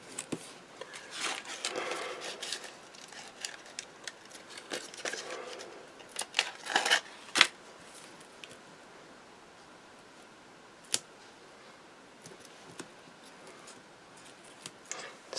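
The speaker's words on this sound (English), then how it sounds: "Snip off the bit that you don't need" Scissors snip thin paper strips during a Christmas card-making craft session, giving soft scattered cuts and rustles with a few sharper clicks, close and fairly quiet, with no talking.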